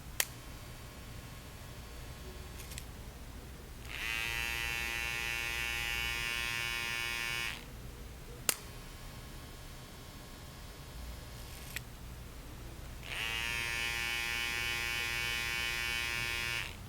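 Andis cordless T-Outliner hair clippers buzz in two long bursts with a bright whining tone, separated by quieter stretches of lower-pitched running and a sharp click or two; no talking.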